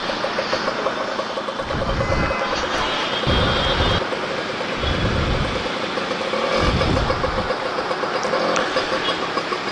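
A TVS Champ 60 motorcycle engine runs steadily with rhythmic low pulsing surges, close up and fairly loud, with no one talking.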